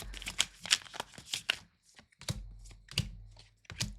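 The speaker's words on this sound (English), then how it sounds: "I'm just going to do one more shuffle" Tarot cards being shuffled in quick riffling bursts, close and fairly quiet, with brief pauses between shuffles.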